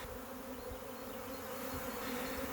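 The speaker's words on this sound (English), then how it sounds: "today swarms are kicking off. Bees are boiling out of several hives, streaming out of the bottom boards." Honey bees swarm out of hives in southeastern Ohio in late April, making a dense, continuous buzzing hum that stays steady and fairly close for the whole stretch, with no voices.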